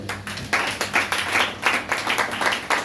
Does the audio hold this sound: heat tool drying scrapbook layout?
no